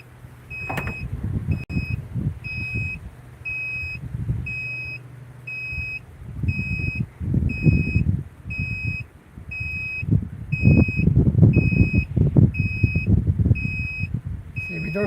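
A solar generator inverter alarm emits a steady series of short, sharp electronic beeps at an even pace throughout, clearly audible over rumbling background noise and occasional handling sounds.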